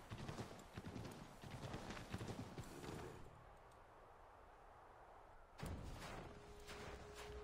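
Horse hooves clip-clop in the Assassin's Creed 3 video game, with busy hoofbeats and game noise in the first three seconds, a quieter stretch, then a sudden louder burst near the end.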